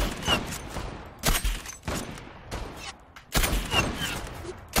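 Bursts of gunfire in the online shooter Zula, several loud volleys crackling close with short gaps between them during a five-versus-one match.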